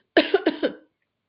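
A quick, close cough of four sharp bursts in rapid succession, loud and isolated against silence.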